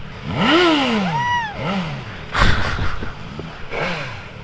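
A Suzuki GSX-1000GT four-cylinder motorcycle is ridden at a show festival. The engine revs up and falls back in several sweeping pulls, loud and close, with some wind buffeting between the rises.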